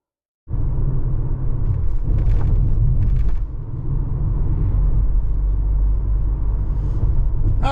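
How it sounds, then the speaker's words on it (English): A 2025 Toyota RAV4 LE with all-wheel drive driving on the road, its steady low engine and road rumble starting abruptly and continuing loud and even throughout, with no talking. "we're out on the road in this 25 RAV4 LE all-wheel drive"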